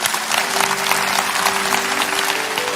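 Dense, continuous applause fills a church as the congregation claps during a sermon by Ps. Philip Mantofa, holding a steady loudness throughout with a sustained low tone running underneath.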